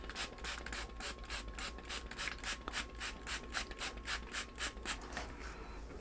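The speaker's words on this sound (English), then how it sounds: "get my spray bottle and wet the bottom part of it down." A handheld spray bottle mists potting soil at the bottom of a pot in a quick, steady run of close, even squirts, roughly three or four per second, over a faint low hum.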